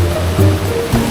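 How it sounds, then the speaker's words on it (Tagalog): A hidden waterfall in Bulusan, Sorsogon, gives off a steady, close rushing roar of falling water that continues without a break. "Yan yung hidden falls nandun sa loob."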